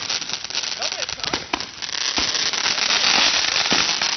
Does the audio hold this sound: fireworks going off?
yes